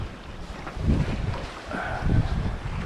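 Strong wind buffets the microphone on a sailboat offshore, with low gusty rumbles and water noise swelling and fading. A voice is briefly heard.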